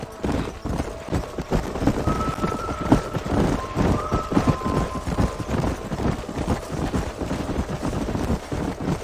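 Horse hooves clip-clop at a run in the Red Dead Redemption video game on PC, a steady dense patter of beats under a busy mix with faint whinnies and scattered shots.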